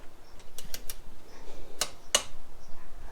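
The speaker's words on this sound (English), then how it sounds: "I'll need to torque down to 44 foot-pounds" A torque wrench tightening a bolt on a Honda Grom's rear sprocket: a few quick ratcheting ticks, then two sharp clicks, close and clear over a low hum, no voices.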